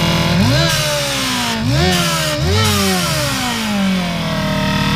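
A car's AMR 500 supercharged engine revs hard three times in succession, each rise followed by a blow-off valve release, then settles back toward idle, loud and close.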